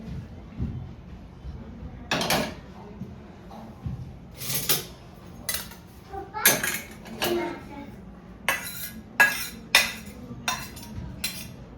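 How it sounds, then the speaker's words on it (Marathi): Cooked spinach being strained, with a series of irregular metallic clinks and clatters of dishes and utensils over a quiet background, the sharp knocks spaced a second or so apart. "तर हा शिजलेला पालक गाळून घेते"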